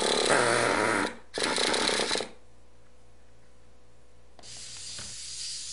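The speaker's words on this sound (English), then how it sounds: "Now clean the outside of the engine with compressed air or an aerosol motor cleaner." Close, loud hissing bursts of compressed air or aerosol motor cleaner sprayed over a Traxxas RC engine: a long blast, a short break, a second blast, then quiet before a softer spray returns near the end.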